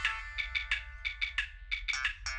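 A phone ringtone trills in repeated short bursts, a bright electronic melody of incoming call rings playing alone and fairly loud over a low background hum.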